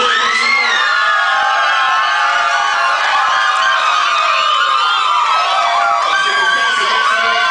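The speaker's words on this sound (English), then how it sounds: "Make some noise if y'all want my guy right here to win." Crowd at a freestyle rap battle cheering and shouting, a loud, dense, continuous roar of voices and whoops that holds steady for the whole stretch.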